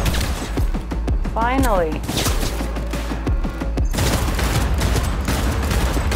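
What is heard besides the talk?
gunfire in video game Cyberpunk 2077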